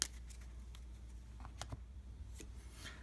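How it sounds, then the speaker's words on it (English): Playing cards from a board game deck riffled and shuffled by hand at a table, producing soft, brief papery flicks and rustles, faint and close with no talking. "I'll give these a good shuffle."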